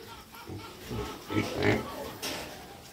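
Pigs in a piggery grunt and oink in several close, irregular bursts, with a murmur of talk in the background.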